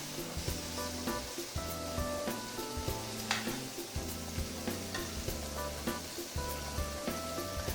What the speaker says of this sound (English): And that's the sear that I am looking for. Oh, I'm just going to turn these shrimp over.